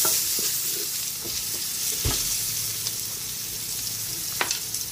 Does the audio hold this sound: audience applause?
no